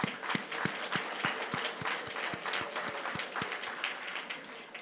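A group claps in a steady rhythmic beat, the crowd's applause dense and somewhat distant, with a low murmur of voices, during a Sunday church service.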